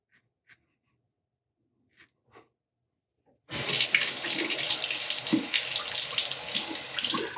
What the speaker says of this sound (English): It clears out of the razor quickly under running water.